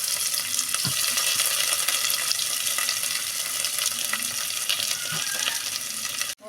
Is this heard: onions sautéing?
yes